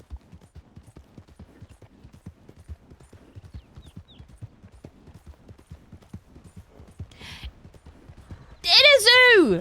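A horse in the WildRP game clip-clops at a steady walk, with soft, evenly spaced hoofbeats. A bright, pitch-sliding whinny-like sound bursts in loudly at the end.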